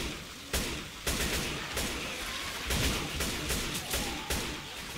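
Rapid gunfire in the zombie shooter Left 4 Dead 2, dense bursts of shots cracking repeatedly across the whole stretch, loud and close with short gaps between volleys.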